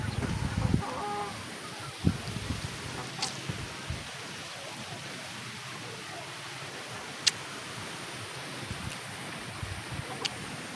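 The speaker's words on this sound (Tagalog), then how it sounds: "sipunin ang mga manok natin ngayon" Chickens cluck softly in the background against steady wind noise outdoors during stormy, cold weather, with a few sharper bursts and distant squawks scattered throughout.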